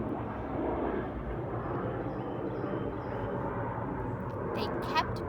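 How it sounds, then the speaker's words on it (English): A propeller or jet airplane flying over a house makes a steady broadband rumble that holds loud and even throughout, like a sustained overhead pass, with a few faint high chirps near the end. "There's a plane flying over my house right now."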